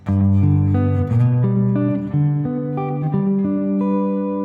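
Electric or acoustic guitar working through four spread triad voicings in a bar chord position, each voicing picked as a short arpeggio of ringing notes, steady and close, no voices.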